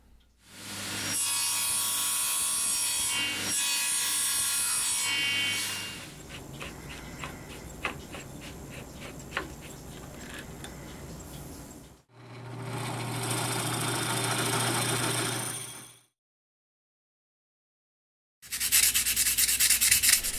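Pen kit tubes sanded, heard as long steady abrasive whirring bursts of several seconds each, separated by quieter scraping and light tapping and one full pause, close and loud with no talking.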